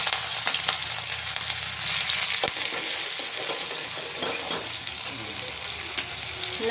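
Chillies fry in a hot cumin tempering with a loud, dense, continuous sizzle, and a utensil stirs and scrapes through the crackle.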